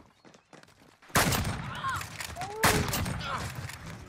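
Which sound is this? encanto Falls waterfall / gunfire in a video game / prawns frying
gunfire in a video game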